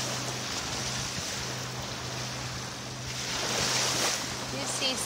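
Ocean waves wash steadily against the seashore in a continuous rushing roar, with wind buffeting the microphone and a low steady hum underneath, swelling slightly toward the end.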